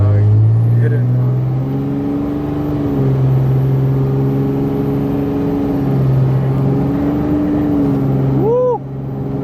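Armoured bulletproof Dodge Ram 2500 accelerating, the engine droning loud and close with rising and falling pitch as the turbo spools, heard from inside the cab while people talk.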